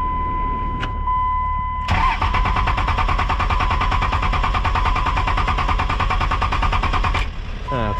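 A hotshot truck's diesel engine cranks over with a chime sounding, catches after about two seconds and clatters loudly at idle, then settles as the chime returns.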